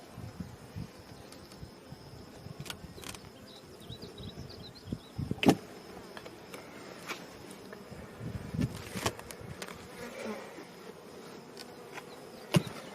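Honey bees buzz steadily around an open hive during an inspection, a low continuous hum with scattered louder knocks and bumps from handling the comb and lid, and no one speaking.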